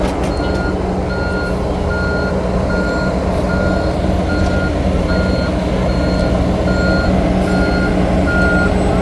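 An asphalt truck backs up at a street roadwork site, its reversing alarm beeping steadily at a regular rhythm over a loud, continuous diesel engine rumble.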